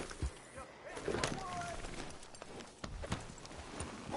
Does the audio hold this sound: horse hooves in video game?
yes